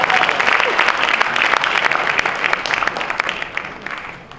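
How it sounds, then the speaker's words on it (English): Audience applause at the 2015 African Diaspora Awards ceremony, with a full crowd clapping warmly and steadily that tapers slightly toward the end. "Let's give them a round of applause."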